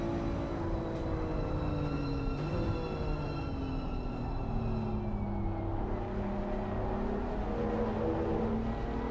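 A BMW M2 race car engine in a sim racing game at the Nürburgring, a steady loud drone with whining tones that sweep downward as the revs fall, continuous and close with no talking.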